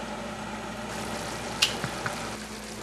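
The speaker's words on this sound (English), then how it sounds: "I'm going to let this sauce cook for about another 5 minutes with the lid on" Pasta sauce of peppers, onions and olives simmers in a covered pan, a steady low sizzle running throughout with a few small pops and ticks near the middle and end.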